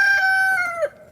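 A rooster crows once in a single drawn-out call that trails off after about a second. It sounds close and loud, with no other sounds around it.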